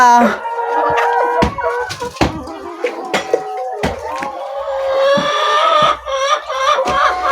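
Several chickens cluck and squawk close by in a chicken house in the morning, in uneven bursts, with a few sharp knocks and rustles mixed in.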